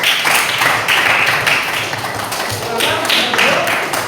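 A class applauds a presenting group with continuous brisk hand clapping from many students, loud and steady throughout, with some voices mixed in.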